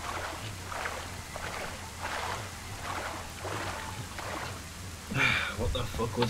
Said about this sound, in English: I can hear the boat.